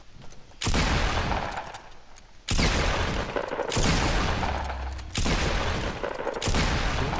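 Sustained bursts of gunfire from a Fortnite match during a duos game, loud dense volleys filling most of the stretch with brief gaps between them and no talk over them.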